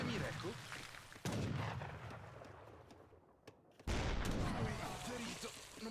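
Heavy cannon artillery fire in the Age of Empires III strategy game, with several loud booming shots, a sharp blast near the middle and another heavy burst later, under ongoing battle noise and a commentator's voice.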